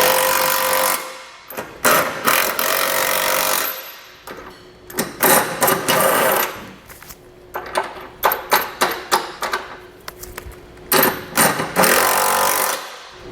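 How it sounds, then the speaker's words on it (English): A socket tool snugs down the bolts of a Curt trailer hitch receiver on a 2022 Subaru Forester, giving a series of loud ratcheting and rattling bursts with short gaps and sharp clicks between them. "you can take a 19mm or a 3/4 inch socket and snug everything down"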